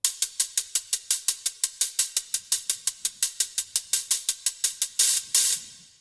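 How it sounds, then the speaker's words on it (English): A steady hi-hat loop of crisp, evenly spaced ticks in a fast rhythm, ending with a couple of longer open hits that ring out. "hi-hat loop sounds like this"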